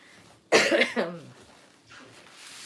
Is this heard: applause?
no